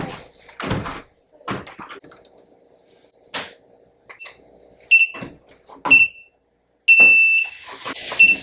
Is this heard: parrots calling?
no